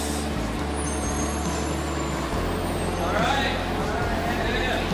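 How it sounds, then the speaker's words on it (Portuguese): A bus with air brakes passes outside Los Angeles airport, its loud, continuous engine rumble filling the scene with a brief airy hiss partway through, while a voice talks over the traffic. "Olha o ônibus."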